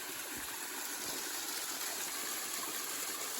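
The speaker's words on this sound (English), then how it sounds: "there's a little waterfall and this bench" Carnes Cascade, a small waterfall beside the Appalachian Trail near Dix Creek Gap, gives a steady, full-bodied rush of falling water, close and constant throughout, with no voices.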